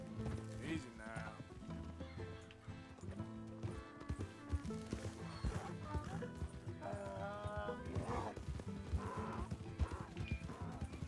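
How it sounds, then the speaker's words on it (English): A mule moving, with hooves clip-clopping and whinnying or braying calls over a busy game soundtrack of music and effects. "It is a mule."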